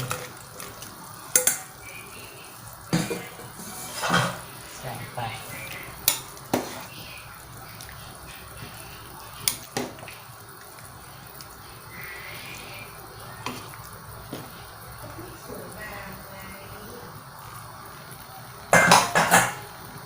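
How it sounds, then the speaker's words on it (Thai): Sliced bitter melon goes into a pot of simmering chicken soup, bringing sporadic clinks, knocks and soft splashes over a quiet background hiss, with a loud cluster of clatter near the end. "เสร็จแล้วก็ใส่มะระนะคะนี่มะระที่เราหั่นเอาไว้นี่นะ ใส่ลงไปเลย"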